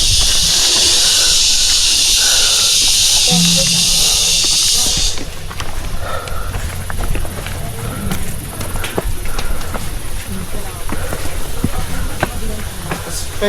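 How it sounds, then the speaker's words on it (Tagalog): Cicadas (kuliglig) calling along a hiking trail in Dingalan, Aurora, a loud steady high-pitched buzz that stops abruptly partway through, leaving footsteps and quiet voices of hikers. "Kuliglig po."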